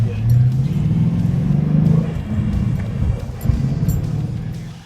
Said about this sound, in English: take your foot off the clutch, and then let the car just slow itself down